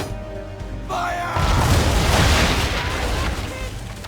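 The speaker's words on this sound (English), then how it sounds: "Now, aim all guns at her bow and do as much damage as possible." A sailing ship's cannons fire at an enemy vessel's bow in Assassin's Creed 3, a heavy booming volley that rolls into a long, loud rumble after a brief shouted order.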